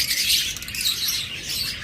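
A pair of seven-month-old pet opaline budgerigars chirps close by, rapid overlapping high tweets and chatter that run continuously through the short stretch with no talking.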